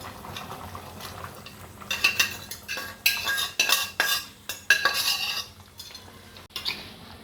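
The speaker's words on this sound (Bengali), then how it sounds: "এবার মাছগুলো ঢেলে দিচ্ছি।" Fish pieces tipped into a boiling cauliflower and potato curry, heard as a run of close metallic clatters and scrapes against the pot over bubbling liquid, growing busier in the middle before settling, with no talking.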